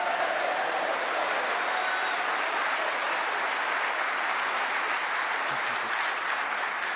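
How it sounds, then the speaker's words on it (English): Snooker audience applauding Ronnie O'Sullivan's century break of 103, a dense, sustained round of clapping that stays loud and even throughout, with no voices. "Great reaction from the crowd."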